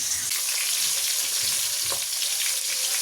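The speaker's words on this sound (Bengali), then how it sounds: "এই কাঁটাগুলো ভাজা হয়ে গেছে" Constant bright sizzling of fish bones frying in oil, close and even throughout, with faint stirring underneath.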